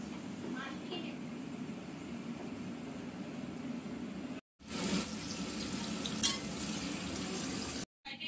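An egg marinated with salt and turmeric fries in a pan alongside potatoes, giving a continuous close sizzle, with a short clink and two brief dropouts.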